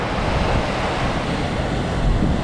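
Ocean surf at Clearwater Beach, a steady broadband wash of breaking waves with wind rumble, loud and continuous with no voices.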